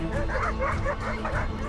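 A pack of dogs barking at a leopard, a rapid overlapping chorus of yips and barks at mid distance, continuous and busy against a dense background.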